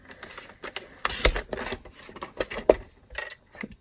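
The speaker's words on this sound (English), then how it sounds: "That's okay, I've got my trimmer right here" A paper trimmer slicing cardstock for a card-making box, giving a quick series of close clicks and a sliding, rasping cut with short mechanical snaps over a few seconds.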